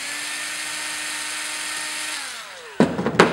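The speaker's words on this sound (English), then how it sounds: "When you're putting these screws back in, these are going into thin-walled aluminum, so turn your torque way down in the screwdriver" A power screwdriver drives a screw into a thin-walled aluminum battery case, a steady whining motor hum that winds down, followed by two short sharp bursts as the screw seats, close and alone.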